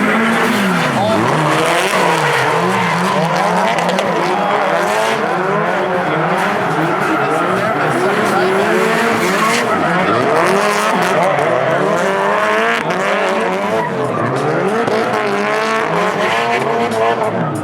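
Drift cars with SR20 engines power through a corner at a twin-drift event. Engines wail and rise and fall over constant loud tire squeal, which continues without a break.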